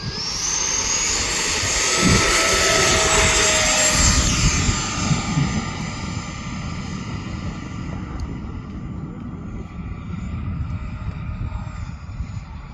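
A jet-like whine of an E-flite F-16 80mm ducted fan RC jet sweeps past loudly, then fades to a steady, distant rushing drone with wind noise.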